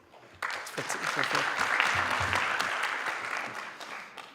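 Audience applauding at a policy conference at Lovedale TVET College, a broad sustained wash of clapping from a room full of people with some voices mixed in, steady for several seconds.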